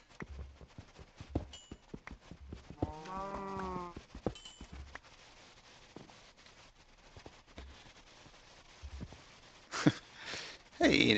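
A Minecraft cow lets out one drawn-out, wavering moo at moderate volume, among quiet footsteps and block sounds, followed by a noisy burst near the end.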